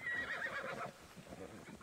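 A horse in the video game Immortals Fenyx Rising lets out a loud, close whinny that fades within a second. Softer hoof-like thuds and faint background sound follow.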